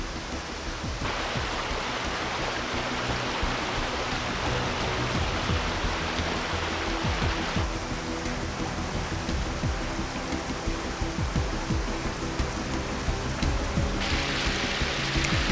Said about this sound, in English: I have to find another way across this river here.